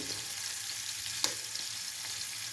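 Eggs cooking with melted Edirne white cheese in a pan, a steady soft sizzle and fry throughout with a faint scrape of a utensil midway.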